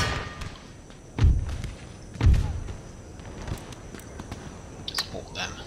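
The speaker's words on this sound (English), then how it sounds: "Artillery firing on them." Artillery fire in the Empire Total War game, Darthmod, with British forces: two heavy booming thumps about a second apart stand out over a continuous battle-ambience hiss, with fainter distant pops and cracks afterward.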